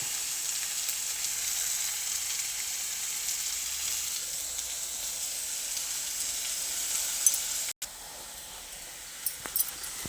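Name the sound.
onions frying in a pan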